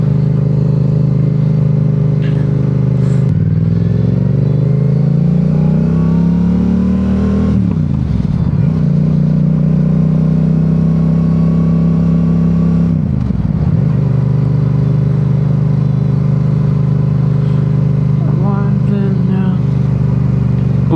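A motorcycle engine runs loud and close while riding, its pitch climbing steadily and dropping sharply at each gear change, with a clattering drivetrain and wind noise.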